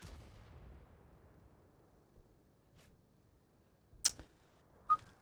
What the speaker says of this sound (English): And artillery. There we go. Artillery.